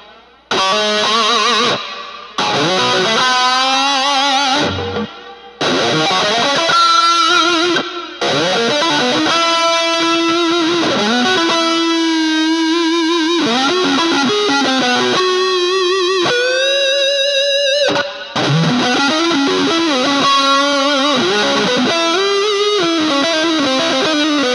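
An electric guitar plays through an Orange Crush 35RT amp with reverb on, along with a Joyo Atmosphere pedal and a small black amp box. Loud sustained chords and sliding bent notes are separated by brief gaps.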